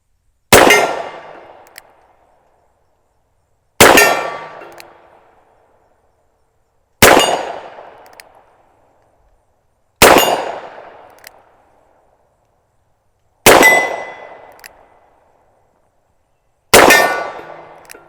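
A Ruger GP100 revolver firing .38 Special loads at steel targets: six loud, sharp shots evenly spaced about three seconds apart, each followed by a ringing metallic clang that decays to silence.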